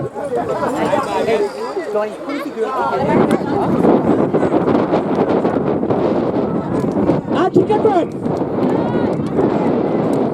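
Gusting wind buffets the microphone at an outdoor women's rugby match, a steady low rumble under a commentator's voice and faint crowd chatter.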